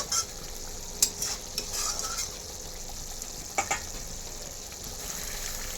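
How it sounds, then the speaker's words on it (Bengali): Spice paste fries in oil for a cauliflower vegetable dish, giving a steady sizzle with scraping stir strokes now and then, close and continuous with no talk. "মশলাটা তেল না ছাড়া পর্যন্ত এটাকে ভালো মতো কষাতে থাকবো"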